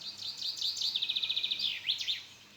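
Small birds chirp in a village, a bright run of quick repeated tweets and trills close by over a quiet background.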